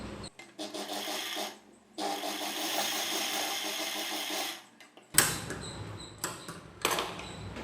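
A sewing machine runs in long steady bursts while stitching the folded edge of a six-panelled saree petticoat, with a short pause between runs, then scattered handling clicks and rustles of cloth.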